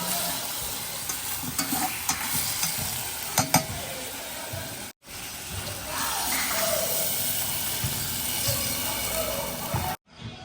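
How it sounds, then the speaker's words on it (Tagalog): Banana blossom goes into a pot of simmering fish sinigang with a steady hiss and bubbling, accompanied by occasional stirring clinks and a person talking over it. "Lagay na natin guys ang ating puso ng saging."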